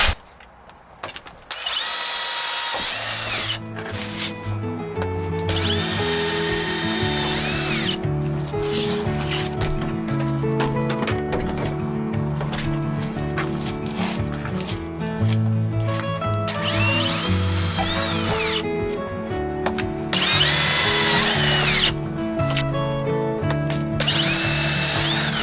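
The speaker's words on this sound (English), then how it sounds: "Just drilling some pilot holes for the screws so that I don't crack it." A power drill bores pilot holes for screws through plexiglass window panels on a backyard chicken coop, giving repeated loud, close whirring bursts separated by brief pauses and some handling noise.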